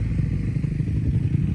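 Dirt bike engine revving hard off the starting gate on a backyard track, a loud, close, steady roar with a little rattle, lasting under two seconds and free of speech.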